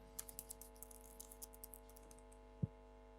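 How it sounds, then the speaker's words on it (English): Quiet computer-keyboard typing during a talk on cloud monitoring with Azure: a string of light, scattered key clicks, faint and close, ending with one sharper tap, with no voices. "just by typing them in here"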